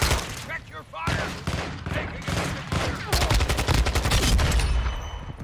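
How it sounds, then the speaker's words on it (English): Rapid gunfire bursts from Call of Duty: Modern Warfare II multiplayer, shooting at a Bouncing Betty mine, loud and dense, with a heavy sustained barrage in the second half; players talk over the opening shots. "he's trying to shoot my Betty down"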